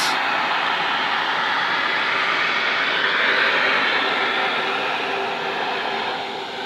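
A steady, whooshing motor drone from a 1940s Hoover 402 upright vacuum cleaner runs throughout, even and unbroken, fairly loud and close, easing slightly toward the end.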